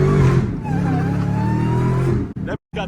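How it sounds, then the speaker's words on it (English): A supercharged car engine revs hard and close, holding a loud, sustained whine with rising pitch. It cuts out abruptly near the end, followed by a short burst and a brief gap. "the supercharger jumping, y'all."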